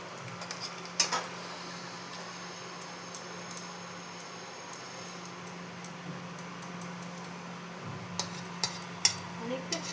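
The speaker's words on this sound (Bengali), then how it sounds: "ঝোলটা ফুটে গেছে, এখন এর মধ্যে আমি ভেজে রাখা ফুলকপিটাও দিয়ে দেবো।" Gravy simmering in a pot as fried cauliflower goes in for a Bengali egg and cauliflower dalna: a soft, steady bubbling hiss under a low hum, dotted with sharp ticks and clinks from a utensil against the pan.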